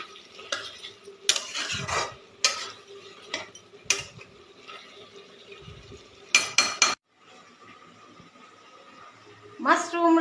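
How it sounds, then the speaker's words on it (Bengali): Mushrooms stirred and cooked in a pan in a home kitchen: a utensil scrapes and clanks against the pan in bursts over a low sizzle, and a voice talks through much of it. "মাশরুম রান্না করছি।"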